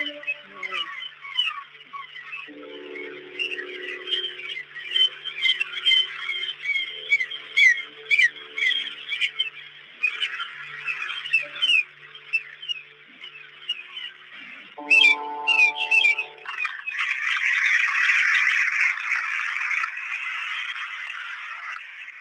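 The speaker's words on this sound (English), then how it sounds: "Bird singing." Birds sing and chirp in quick whistled phrases, fairly close, with a brief lower warbling call partway through and a brighter trill toward the end.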